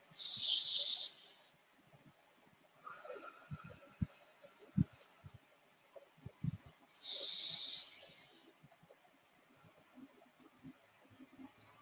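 Deep breaths are taken during a guided self-massage relaxation, with two long airy exhales several seconds apart and softer breathing and small sounds between them.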